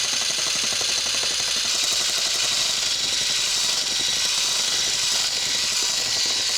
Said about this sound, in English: That's why you like using these great little immersion blenders, which is a double-headed whisk